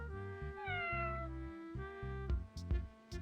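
A cat meows several times in a drawn-out, whiny voice over a low electronic hum, with faint clicks near the end.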